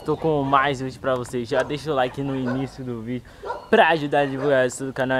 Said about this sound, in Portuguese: Desculpa o barulho de fundo, tem cachorro gritando, ó.